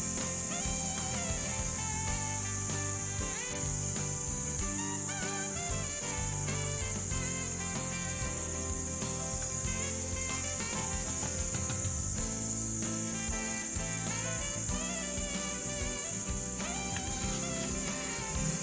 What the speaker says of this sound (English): Did I mention how loud cicadas are?